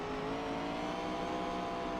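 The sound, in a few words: race car engine throttling up, from a sim racing video game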